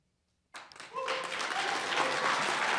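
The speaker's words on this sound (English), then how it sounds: "Please hold your applause if you can." Sudden applause breaks out from the audience at a congressional candidates' forum after a moment of silence, quickly swelling into a sustained, full round of clapping.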